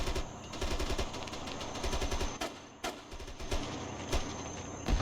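Rapid automatic gunfire in a military shooter video game, with troops firing at a target building as repeated bursts of shots come in steady rhythm, fairly loud, with a brief lull midway and no talk.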